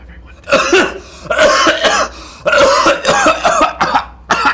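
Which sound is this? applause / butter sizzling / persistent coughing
persistent coughing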